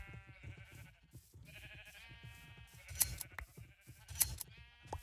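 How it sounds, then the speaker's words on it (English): Sheep bleat repeatedly in a Minecraft-style video game, several wavering calls overlapping in quick succession with sharp click-like clips of shearing between them, moderately loud and close. "So many sheep sheared."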